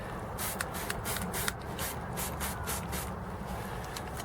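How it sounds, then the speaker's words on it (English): Repeated short hissing bursts of Dettol disinfectant spray, close by, with soft rubbing and handling noise underneath, at an allotment. "And give it a spray."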